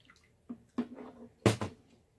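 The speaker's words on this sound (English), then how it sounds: "So now we dump our peaches into our butter." Peaches dumped into melted butter in a pan, heard as a few wet splashes and sloshing plops, close and fairly quiet, with the largest splat near the end.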